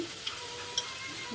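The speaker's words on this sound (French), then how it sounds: "Et je rajoute la mangue. Et de temps en temps, je remue" Mango and other fruit fry gently in a pan, giving a soft, even sizzle close by with a couple of light taps as the pieces are stirred now and then.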